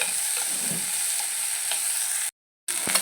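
Raw green mango pieces sauté in a hot pan, a dense steady sizzle broken by stirring scrapes, with a brief gap of silence near the end before the frying resumes.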